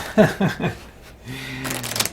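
Pile-shuffled deck of game cards for the Mage Knight board game: a few quick slaps of card stacks being set down, then a brief riffling flutter, close and fairly loud with no talk.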